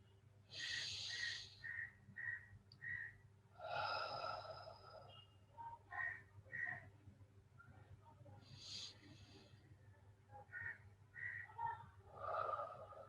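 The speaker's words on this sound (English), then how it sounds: "take 3 nice deep breaths" Slow, deep breaths taken during a guided evening meditation, several long airy inhales and exhales repeating at a calm rhythm, close and soft over a faint steady hum.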